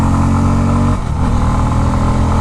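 A Bajaj Pulsar F250 motorcycle on the move gives a loud, steady engine drone, with a brief dip in tone about a second in before the note holds again.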